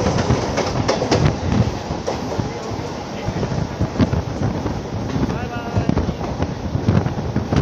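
A fast-running Mumbai local train on the line from CSMT toward Kalyan rattles and clatters, with rapid irregular wheel knocks and wind rush over a continuous rumble.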